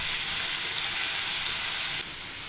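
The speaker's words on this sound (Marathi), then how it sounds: "हिरवी मिरची, लसूण, कोथिंबीर वाटल्या ते टाकूया। छान परतून घेऊया।" A paste of ground green chili, garlic and coriander fries in a pan with a steady, close sizzle that drops slightly toward the end.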